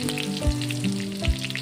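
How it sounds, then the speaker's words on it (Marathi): Garlic sizzles in hot oil with crackling cumin and mustard seeds, a steady close frying hiss with a few soft thuds from the pan, and no voices. "आपण त्यात लसूण टाकून घेणार आहोत."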